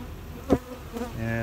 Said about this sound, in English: Doesn't look like too many bees up top.